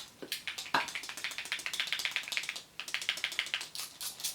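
A Fidget Cube's ball button being clicked over and over, a quick run of light plastic clicks up close, with a brief pause partway through before the clicking resumes.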